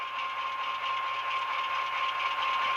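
An ESU LokSound air compressor effect on an HO scale EMD GP9 model locomotive, a steady mechanical chugging hum that runs evenly and continuously throughout with no talking.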